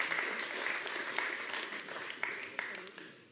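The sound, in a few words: audience applause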